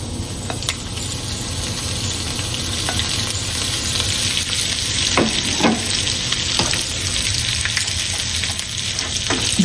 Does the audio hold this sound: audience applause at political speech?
no